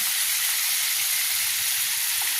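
Chicken pieces fry in a pan for a Bengali-style butter masala, giving a steady, close, bright sizzle with no voices over it.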